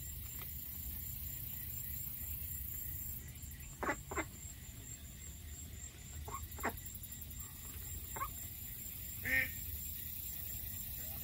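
Ducks quacking and geese honking outdoors, scattered calls rising from a steady low background rumble, with a few louder honks standing out.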